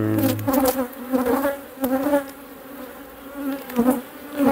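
Honey bees buzz up close at a hive during queen rearing, a steady droning hum that swells and fades, with faint clicks and rustling around them.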